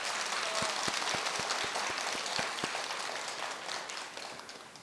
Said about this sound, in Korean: 우리 조계사 신도님들 한번 박수로 한번 이렇게 좀 환영해 주시기 바랍니다